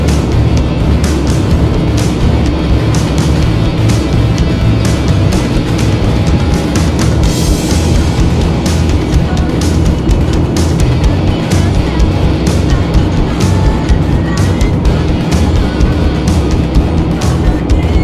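Steady loud road and engine rumble from inside a car on a long Texas road trip, continuous broadband drone with no breaks, close and enveloping.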